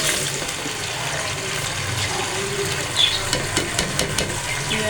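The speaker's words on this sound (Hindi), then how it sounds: "ये अरबी हम फ्राई करते हैं" Taro (arbi) pieces frying in hot oil make a moderate, steady sizzle with scattered crackles and occasional sharper pops, all heard without any talking.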